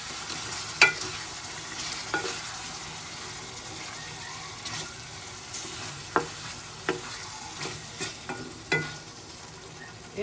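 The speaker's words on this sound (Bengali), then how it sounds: "মরিচগুলো দিয়ে একটু নেড়ে নিলাম।" Green chilies being stirred into thin dal cooked with very little oil, heard as a quiet, low background sizzle broken by scattered scraping and clattering strokes of the spoon.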